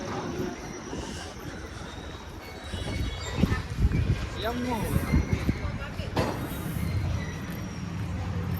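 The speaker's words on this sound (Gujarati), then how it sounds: "અને ટ્રેન આવી ગઈ છે." A train pulling into a railway station, a rumbling roll with faint wheel squeal that grows louder partway through, while people talk nearby over it.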